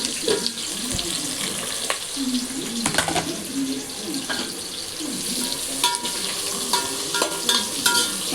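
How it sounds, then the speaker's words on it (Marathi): Three large sliced onions frying in hot oil for chicken dum biryani crackle and sizzle close up, broken by repeated clinks and scrapes of a stirring utensil, with no talk over it. "आता आपण तेल तापायला ठेवले। त्यात मोठ्या साईजचे 3 कांदे घेतले, स्लाइस करून घेतले।"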